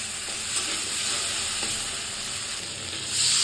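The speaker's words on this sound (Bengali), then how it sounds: "এটাকে দিয়ে একটু ভালো মতো কষিয়ে নেব" Mustard, chili and ginger paste sautéing in a pan for a fish dish, giving a continuous dense hiss and sizzle with no talk.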